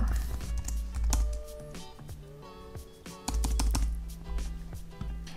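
A computer keyboard clacks under quick, irregular bursts of keystrokes while someone enters a Docker run command in a terminal connected to a home-automation server, close and clear with short pauses between runs.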